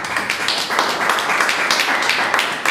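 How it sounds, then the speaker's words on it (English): A room full of people claps for a speaker coming on stage at a debate event, a steady, dense patter of hands lasting the whole stretch at close, even loudness. "A round of applause for Sudhanshu."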